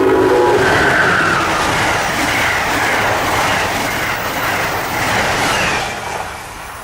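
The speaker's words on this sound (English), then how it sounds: "Amtrak Northeast Regional number 184 races north with an ACS 64 on its way to Boston," An Amtrak Northeast Regional train hauled by an ACS-64 electric locomotive races north along the Northeast Corridor, a loud, steady rumble and rushing roar with rail clatter that holds throughout and eases slightly at the end.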